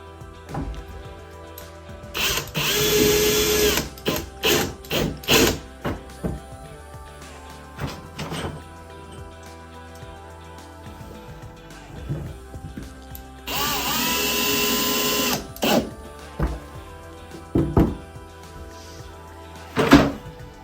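A power drill whirs in two long bursts and several short pulses, driving screws to mount a floating shelf up close, with knocks and handling clatter between runs.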